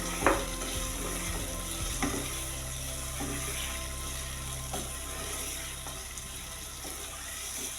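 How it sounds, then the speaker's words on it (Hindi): Garlic, ginger and minced meat fry in a karahi for a lasting sizzle, broken by a few sharp clinks and scrapes of stirring at the start and again now and then. "इसको भी अच्छे से फ्राई करेंगे और साथ ही मैं ये कीमे को ऐड कर दूंगी।"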